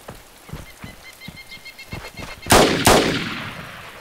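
Two loud, close gunshots ring out in DayZ after several faint distant pops, each leaving a short echoing tail.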